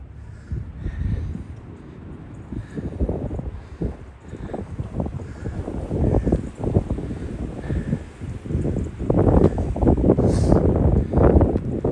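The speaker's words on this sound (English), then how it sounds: "The wind does add to the realism." Wind blowing outdoors in Branch Brook Park, New Jersey, a steady rumbling gusting noise buffeting the microphone, rising and falling and growing stronger toward the end, with no talking.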